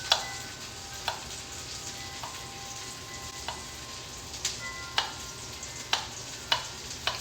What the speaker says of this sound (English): keeping my eye on the last bit of chicken and artichokes that's frying up